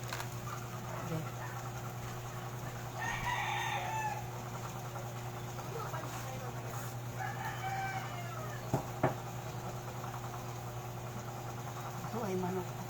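A rooster crows twice at a distance over a steady engine-like hum, with some background chatter at a small Filipino wet market.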